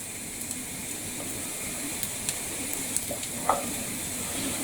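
Bacon and sausages fry together in a pan in their rendered fat, a steady close sizzle and crackle broken by occasional pops and a scrape of the pan, with no voices.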